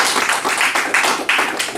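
A small audience gives a brief round of applause at a psychology clinic session, with dense, close clapping bursts that pulse unevenly and continue steadily without any talk.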